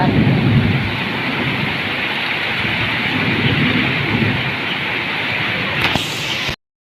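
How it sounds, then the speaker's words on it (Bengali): Heavy rain pours down with gusting wind in a dense, constant roar that stays loud before cutting off abruptly. "এখন খুব বৃষ্টি নেমেছে এই দেখো আমাদের এখানে হাওয়া বৃষ্টি শুরু হয়েছে"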